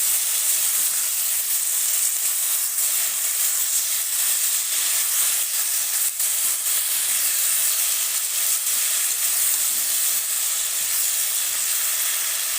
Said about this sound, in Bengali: দিয়ে দেবো একটু হলুদ এরপরে ভালো করে কষিয়ে নিতে হবে